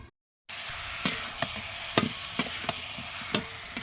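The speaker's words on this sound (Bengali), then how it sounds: "মশলাটা সুন্দরভাবে কষিয়ে নিয়েছি, এর মধ্যে তেল ছেড়ে দিয়েছে" Spice paste sautéing in oil in a pan, with a steady low sizzle under a series of sharp, separate clacks of a spoon or spatula striking the pan about every half second, close and fairly quiet, no voices.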